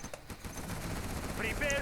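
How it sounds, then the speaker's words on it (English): Gunfire from a howitzer-armed strategy center in the real-time strategy game Command & Conquer Generals, a dense run of rapid mixed shots and battle noise over the whole stretch, with a few bright tonal game sounds near the end. "The strategy center fired from the howitzer."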